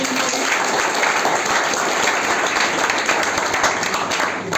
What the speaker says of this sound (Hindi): इम्पैक्ट एकेडमी के लिए भी जोरदार तालियां।